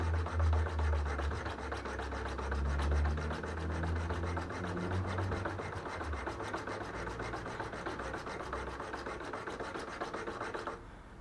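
A hand saw blade cuts steadily through a part on a Yamaha FJ 1200 motorcycle, a continuous rasping back-and-forth scrape with a low rumble early on, close and loud, stopping near the end.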